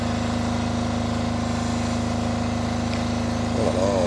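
Diesel engine idling with a steady, loud, close low rumble and even vibration, unbroken throughout, with a faint voice near the end.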